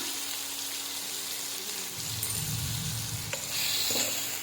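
Fish frying in a kadai with onions, turmeric and salt, a soft steady sizzle with occasional stirring clinks and scrapes, fairly quiet and close.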